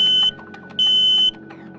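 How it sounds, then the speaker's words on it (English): A smoke alarm near a cooking area sounds two loud, sustained, shrill electronic beeps separated by a short gap, with a low background hum between them. "Concerned about nuisance alarms that may occur while cooking?"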